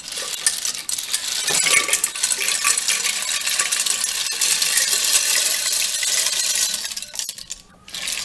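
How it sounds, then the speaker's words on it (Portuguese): Dry pasta poured into a pressure cooker pot already holding water, giving a steady clattering, tinkling rush that runs for several seconds close up, with no talking. "agora eu vou colocar o macarrão"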